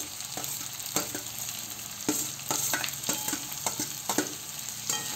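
Capsicum and spring onion greens stir-fried in a pan, a constant sizzle punctuated by repeated sharp spatula scrapes and taps at an uneven rhythm, close by with no speech.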